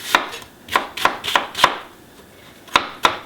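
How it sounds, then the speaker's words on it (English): A knife coarse chopping an onion on a board: seven sharp, close chopping thuds in an uneven rhythm, with short pauses between strikes and no talking. "And I am going to coarse chop an onion."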